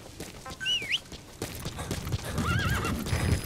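A horse in the Metal Gear Solid V game whinnies twice over steady clip-clop hooves in a trotting rhythm, close and moderately loud.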